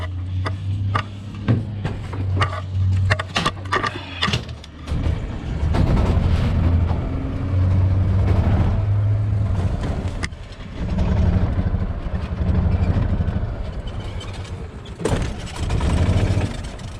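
An Ezgo golf cart starts with a rumbling engine burst, then runs and moves off with uneven revving and clatter in between, close and fairly loud.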